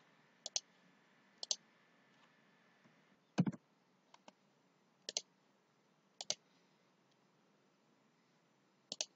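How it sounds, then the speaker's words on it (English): A computer mouse is double-clicked at a desk while building stock management software: crisp, close paired clicks, about six sets spaced over several seconds in a quiet room, with no voices. "Now if I mouse double click in this data grid view"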